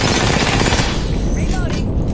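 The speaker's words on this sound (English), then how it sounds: "They're shooting at me?" Dense, loud gunfire in Apex Legends, a continuous burst of rapid shots close up with no pause, fading slightly toward the end.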